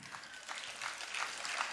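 Applause from parents and children at a school annual day festival, a soft, distant wash of clapping that stays fairly steady through the short stretch.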